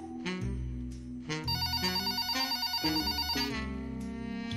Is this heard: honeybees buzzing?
no